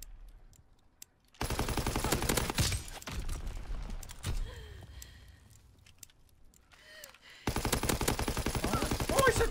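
Video game gunfire comes in two long rapid machine-gun bursts, one early and one at the end, loud and close. A quieter stretch between them holds scattered shots and mechanical creaks.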